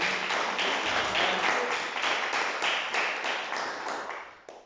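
A church congregation claps during a Sunday worship service, a steady, even run of hand claps filling the room. The claps are moderately loud and taper off toward the end.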